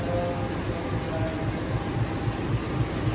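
Kahuripan passenger train hauled by a CC 203 diesel locomotive, heard as a loud steady rumble of rolling railcars with rhythmic wheel beats and a thin high squeal over it, no voices.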